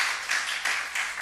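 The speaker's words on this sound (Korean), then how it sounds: "신 집사님에서 박수 한번 쳐줍시다." A church congregation claps for a deacon during a Thursday prayer service, a brief burst of rhythmic group clapping in a few even pulses.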